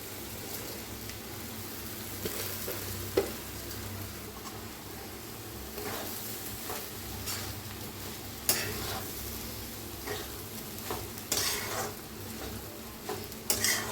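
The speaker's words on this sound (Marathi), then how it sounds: "भाजलेले अंडे आता आपण हे भात शिजवून घेतलेला ह्याच्यात मिक्स करूया." Cooked leftover rice is stir-fried with fried egg for egg fried rice, a soft continuous sizzle under scraping and stirring, with occasional sharp clicks of a spatula against the pan.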